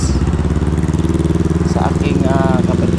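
A Honda PCX 160 scooter idling close by with a steady, even engine drone, while someone talks over it.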